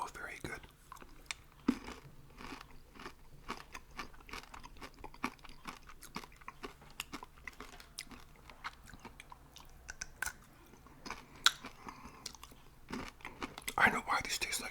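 Close, steady chewing of candy with peanuts inside, moist crunches and mouth sounds throughout, with soft whispering in places.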